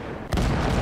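A sudden loud burst of destroyer gunfire in a naval video game cuts in after a brief lull, then holds as a dense, booming roar.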